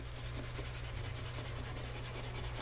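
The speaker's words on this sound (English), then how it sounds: "And then basically it's just sanding." Sandpaper rubs on a small clear plastic part from a 1/670 scale model kit of the U.S.S. Voyager, a quiet, steady rhythmic scratching of back-and-forth strokes, close up with no voices.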